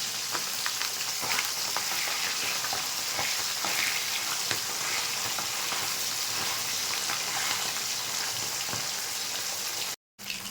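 Pieces of bata fish fry in hot oil with a dense, continuous sizzle and crackle, close and fairly loud, cut by a brief gap near the end.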